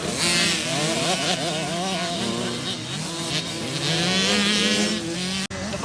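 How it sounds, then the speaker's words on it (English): A dirt bike engine screams at a motocross track, revving hard with rising and falling pitch as the rider pushes faster, loud and continuous throughout with a brief cut near the end. "the bike sounds so much better"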